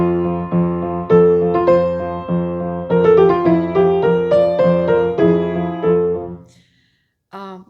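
Solo piano passage from a Clementi sonatina played with finger pedaling, the bass note held over by the little finger so notes blend. It is a flowing, close, fairly loud line with no talking, trailing off before one short chord at the end.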